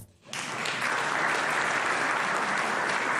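Applause from a gathered audience during a speech in Ukraine starts abruptly after a brief quiet moment, then holds as a steady, dense wash of clapping with no voices over it.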